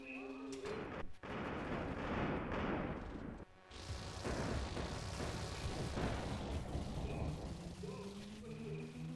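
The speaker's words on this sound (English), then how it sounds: "now's a okay time to continue launching missiles. Specifically, shell cracker missiles." Shell cracker missiles launch from a mech in a video game, a dense, roaring wall of booming blasts and bursts that runs almost continuously, broken by a brief dip partway through.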